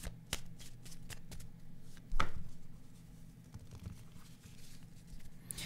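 Tarot cards being shuffled for a fortune-telling reading, a close run of soft riffling and flicking taps with one louder slap partway through, over a low steady hum.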